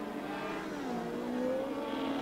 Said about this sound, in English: the Suzuki engine of this machine, it doesn't sound particularly healthy either